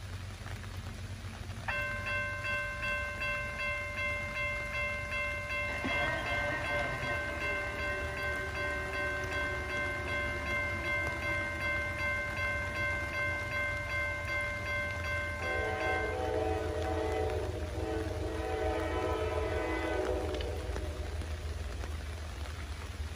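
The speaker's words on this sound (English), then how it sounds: "we're over at Moody Town to catch our first train of the day" Southbound CSX freight train M693 on the Clinchfield line at Moody Town sounds a long, loud multi-tone air horn in several blasts while its steady rumble rolls past under falling rain.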